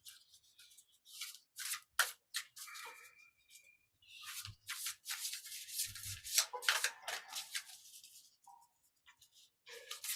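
Deck of cards being shuffled by hand, giving soft, close riffling and papery flicks in irregular bursts, quiet and without talk.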